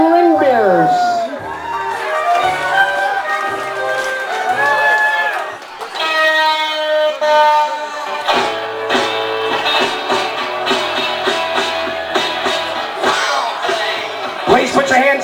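Applause and cheering from a crowd at a wedding reception at Wachusett Village Inn in Massachusetts, greeting the flower girl and ring bearers, form a steady roar under loud music while voices carry over the top.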